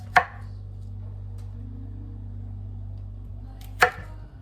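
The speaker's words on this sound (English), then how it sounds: "Some of these Brussels sprouts have dark spots on them too. You gotta cut around those." A knife chops through fresh Brussels sprouts on a cutting board during salmon and rice cooking, giving two sharp, separate cuts about three and a half seconds apart over a steady low kitchen hum.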